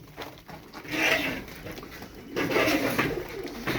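Domestic Turkish play pigeons coo in soft, throaty rolling calls, two close swells of cooing with faint background noise between.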